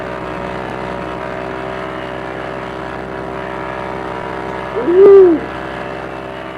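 Steady drone of a P-40E Warhawk's piston engine and propeller spooling up for takeoff in a VR flight game, holding a constant hum throughout, with a short excited shout near the end.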